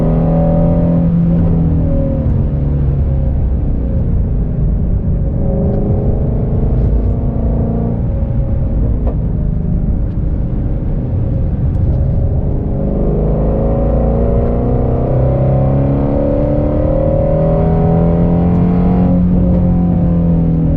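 A 2020 Ford Mustang Shelby GT350R engine heard from inside the car while drifting in the rain, a loud continuous rumble rising and falling as the throttle is worked, no talking.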